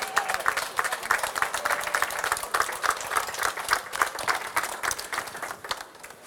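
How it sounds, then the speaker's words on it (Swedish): Audience applause for a contestant during a Swedish cooking competition semifinal in Karlstad, a dense steady patter of many hands clapping at moderate volume, fading slightly at the end. "En varmande applåd för Jonas."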